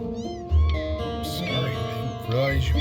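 A cat meows repeatedly in the video game Before Your Eyes, the cries rising and falling over a bed of game music and ambience, close and fairly loud.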